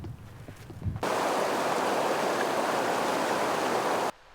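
Crystal Creek flowing through Red Rock Ranch near the Tetons: a steady, loud rush of running water that starts abruptly about a second in and cuts off shortly before the end.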